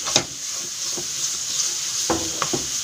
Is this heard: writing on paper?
no